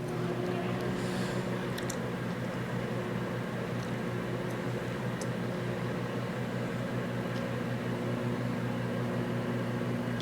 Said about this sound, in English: I'm gonna put this piece of lettuce in the microwave.